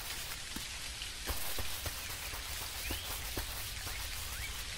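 Rain falling in the farming life-sim game Dinkum, a steady hiss of drops pattering on surfaces with scattered sharper droplet ticks, constant and fairly quiet with no voices.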